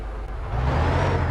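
In Bus Simulator India, a bus engine pulls away in first gear, a steady loud low drone that rises slightly as it revs, heard alone without talk.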